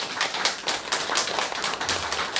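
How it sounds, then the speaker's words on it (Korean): A church congregation claps in encouragement during a Thanksgiving service, giving a dense, steady patter of many hands across the room with no voices over it. "우리 격려의 박수 한번 쳐주셨으면 좋겠습니다."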